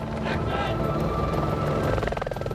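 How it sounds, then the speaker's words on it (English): Helicopters with searchlights chase two people through dark cornfields in an action scene from the 1998 film The X-Files: Fight the Future, a steady loud rotor roar under dense score and effects throughout. "Mulder and Scully are being chased by helicopters."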